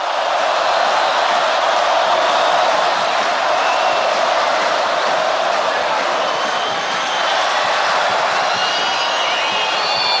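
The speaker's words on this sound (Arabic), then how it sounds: "اسيب حضراتكم تستمعوا بصوت الجماهير حتى التقط حتى انفاسها" A large crowd in a football stadium during the Egyptian Super Cup final between Al Ahly and Modern Future, a loud continuous roar of cheering and chanting with no break.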